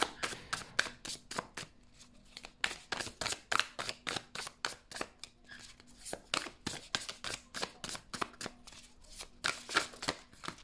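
Cards are shuffled for a card reading in quick, crisp riffling bursts that repeat rhythmically close by, with brief pauses and a faint low hum underneath.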